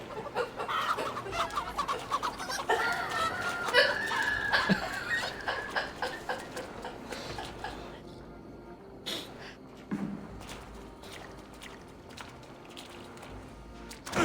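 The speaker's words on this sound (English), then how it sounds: "Gotta catch a chicken." Hens cluck in a rapid, overlapping burst in Assassin's Creed Valhalla, loud at first and then thinning to scattered calls over quieter game ambience, with occasional soft sounds beneath.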